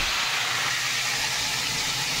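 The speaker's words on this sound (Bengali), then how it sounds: "সর্ষের তেল গরম হয়ে আসার পরে আমি চিকেনটাকে এই তেলের মধ্যে দিয়ে দিলাম।" Marinated chicken frying in hot mustard oil, giving a steady, loud, even hiss of sizzling with no pauses and no voices.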